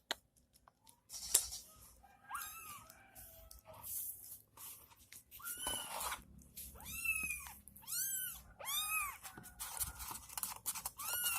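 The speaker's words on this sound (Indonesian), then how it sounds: "anak kucing aku kelaparan" A hungry kitten meows repeatedly, thin rising-and-falling cries clustered in the second half, close and fairly quiet, with soft rustling and small clicks in between.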